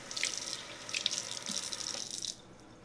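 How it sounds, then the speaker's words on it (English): Tap water runs into a kitchen sink for a rinse while salsa is prepared, a steady splashing hiss that stops cleanly after about two seconds. "I'm going to rinse off a little bit."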